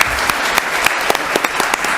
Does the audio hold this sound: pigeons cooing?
no